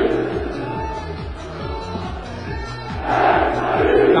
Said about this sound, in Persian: تماشاگران یک صدا تیم پرسپولیس رو تشویق میکنن